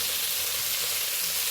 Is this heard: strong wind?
no